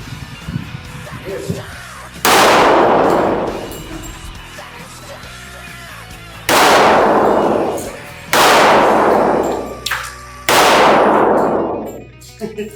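Gunshots at a shooting range in Thailand, four loud, close, booming blasts spaced a couple of seconds apart, each trailing off in a long echo, with faint voices in between.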